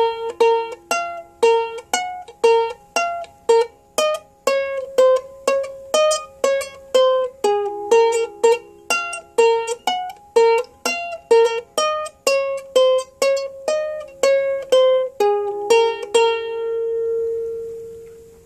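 Clean guitar plays a song's intro riff slowly, a steady stream of distinct single picked notes, moderately loud and close, ending on one held note that fades, with no voice.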